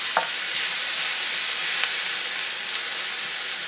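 Onions and other aromatics sautéing in a pan as the base of a beef stew in creamy mushroom gravy, giving a steady close sizzle and hiss with a few brief clinks of stirring and no talk.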